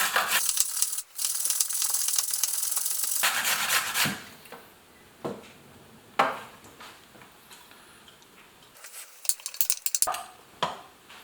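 Half of a very large carrot is grated by hand in a home kitchen for a pressure-cooker Bolognese, with bursts of scraping rasps broken by pauses and a few clattering knocks. The sound is close and there is no talking.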